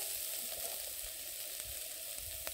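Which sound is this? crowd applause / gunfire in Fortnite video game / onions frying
onions frying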